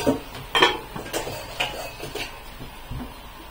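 A pot is covered with an upturned bowl in a home kitchen: several light clinks and taps of dishware knock irregularly, close and moderately loud, with soft handling noise between them.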